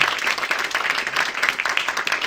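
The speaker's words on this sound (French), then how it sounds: "Mesdames et messieurs, des applaudissements encore pour M. David Chantran, s'il vous plaît" Audience applause for speaker David Chanteranne after a talk on Napoleon and cinema at a Napoleon festival, a dense, steady wash of many hands clapping throughout, fairly close and moderately loud.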